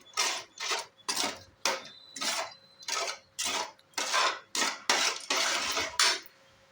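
Spoon scraping and clinking against a metal vessel while curd rice ingredients with milk are mixed, a steady series of about a dozen close, loud strokes with no talk.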